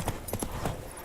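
Horse hooves clip-clopping in The Witcher video game, a quick run of steady hoofbeats at a trot, close and clear, with no voices.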